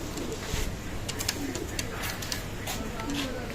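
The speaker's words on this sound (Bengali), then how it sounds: "একজোড়া কবুতর আছে রানিং পেয়ার কবুতর" Soft, low pigeon coos repeat over a dense background of chatter and noise, with sharp clicks scattered throughout, at a pigeon loft.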